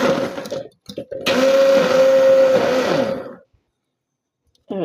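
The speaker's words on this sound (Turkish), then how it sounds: "Şimdi blenderdan çekiyorum" A blender purees boiled spinach, whirring loudly for about two seconds after a few short bursts, then stops, leaving silence before a brief noise at the end.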